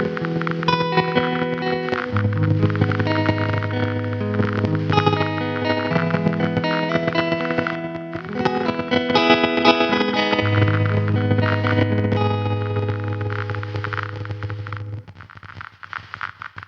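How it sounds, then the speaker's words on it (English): A lo-fi synth patch routed through a volume control and turntable stop effect plays sustained distorted chords with static crackle and brief dropouts, loud and continuous with no voice. "we're getting random audio dropouts and random static as well from this patch"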